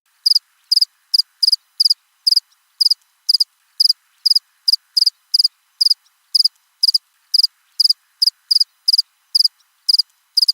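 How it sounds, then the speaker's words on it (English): A cricket chirping sound effect: sharp, high-pitched chirps repeat in a steady, quick rhythm, loud and close, alone against silence. "Is it technically dead air if there's a cricket sound?"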